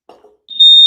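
During a fire alarm inspection, a faint rustle and a brief hiss lead into a piercing, steady alarm tone that cuts in loud and close.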